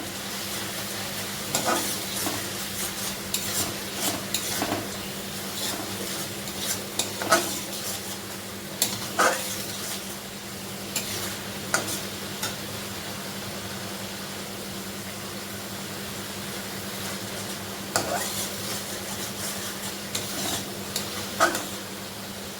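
Spice masala for soybean curry being stir-fried in a pan, a continuous low sizzle under regular scraping spoon strokes and occasional clanks, steady and close throughout.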